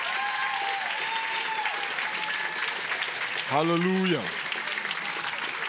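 A church congregation applauds the fathers standing at a Sunday service, steady dense clapping throughout, while a single voice calls out briefly partway through.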